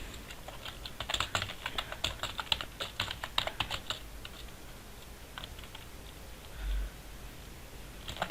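Steady bursts of typing on a computer keyboard, a run of close, crisp key clicks for about four seconds that then thins to a few scattered taps and a low bump near the end, with no talk over it.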